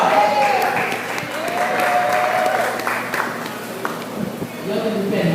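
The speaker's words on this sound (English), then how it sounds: "let's make sure your hands clap as you come" An audience at a public forum claps steadily at moderate loudness, a dense wash of hands under some crowd murmur and background voices throughout.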